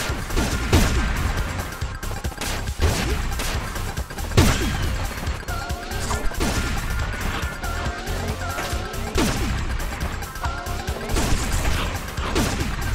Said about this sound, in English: Pepino has a gun.